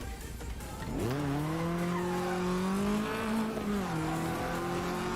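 Racing video game car driven at full throttle into oversteer, engine note rising and holding high with a steady tire-squeal tone over about four seconds, loud and continuous with no talk.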